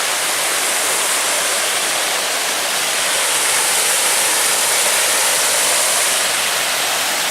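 Creek water rushes along a forest trail near a waterfall, a steady, loud broadband wash that holds constant for the whole stretch with no voices.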